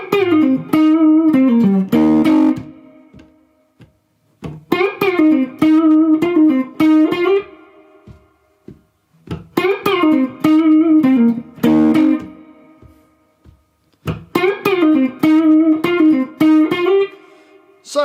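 An electric guitar plays the distorted solo from a song: loud, sustained single-note phrases with string bends come in several bursts separated by short silences, played alone with no talking.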